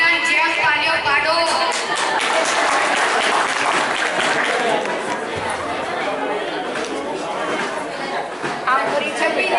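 Audience applause and clapping at a Diwali 2025 school function, a dense steady wash of hands from a large crowd lasting throughout, with chatter mixed in.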